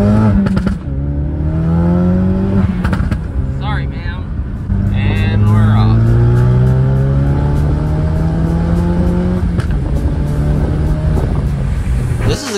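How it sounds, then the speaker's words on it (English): Ford Focus RS with an AWE exhaust in loud mode, a rumbling engine that revs and drones with rising and falling pitch and sharp pops and bangs, close and loud, with someone talking over it. "Oops, I'm gonna get rid of the pops and bangs soon,"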